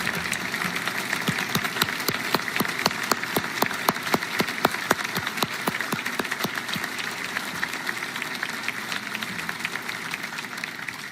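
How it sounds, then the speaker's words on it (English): A crowd of grateful families of Bath Iron Works shipbuilders applauding at a US Navy ship christening ceremony, a dense, steady patter of clapping held for several seconds, outdoors and somewhat distant. "I'd like the families of the Bath Iron Work workers to stand up and take some applause from grateful Americans"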